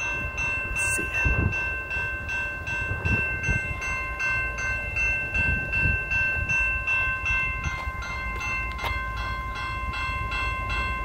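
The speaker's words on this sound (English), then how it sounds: "we got a freight train coming" A CN mixed freight train with locomotives 2694 and 2636 passes a level crossing at Codes Corner near Kingston, a loud steady rumble and rattle of cars with ringing crossing bells throughout and a brief horn-like burst near the start.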